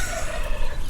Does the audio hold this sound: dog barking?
no